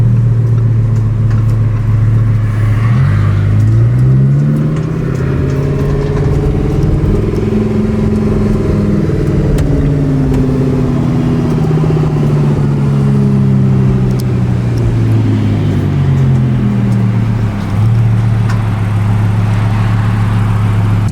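A 1000-horsepower twin-turbo Lamborghini drives and accelerates, its engine droning loudly and continuously from inside the car, with the pitch rising and falling through gear changes.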